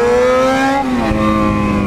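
A motorcycle engine revving during a wheelie attempt, a loud, steady high drone whose pitch drops slightly partway through and then holds, close and alone.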